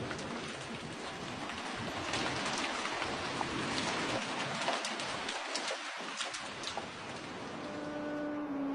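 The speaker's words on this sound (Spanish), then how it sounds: "A pesar de la lluvia" Steady rain falls and patters on surfaces during a Holy Week procession in Cuenca, a dense, even hiss with faint birds cooing in the background.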